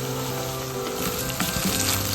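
Onions sautéing with garlic, curry leaves, fennel seed, fenugreek and spices in a pan for a Sri Lankan okra curry, a steady close sizzle with light stirring scrapes and no talking.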